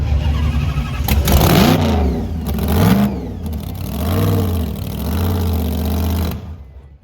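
A screw-supercharged Gen 3 HEMI V8 in a Ford Mustang, freshly started, revs loudly up and down in several rising and falling pulls over a steady lumpy idle, close and alone before cutting off at the end.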